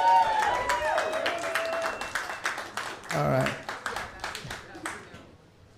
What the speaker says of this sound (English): Please, can you clap again?